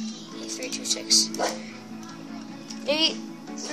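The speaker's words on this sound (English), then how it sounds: "Always barking at the wind." Someone speaks, reading out numbers, and then a dog gives one short, sharp bark nearby.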